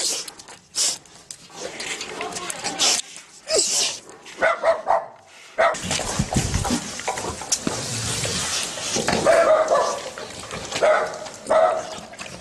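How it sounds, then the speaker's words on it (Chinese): Several prized dogs kept at a rural farmhouse near Xi'an bark in scattered bursts, fairly close, with people talking intermittently in the background and steady outdoor noise between the barks. "还养了几条名贵的狗"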